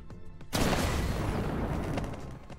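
A bomb blows up in the Melon Playground game, a sudden broadband blast that hits at once and then holds as a long roaring, crackling rumble, loud and close with no voice over it.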